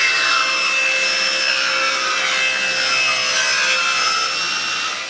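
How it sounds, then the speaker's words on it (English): A track saw trims across the end of a wooden door in one steady, loud, continuous cut with a bright whining rasp that holds for several seconds and tapers slightly at the finish, with no voices. "We're going to trim across the end using a track saw"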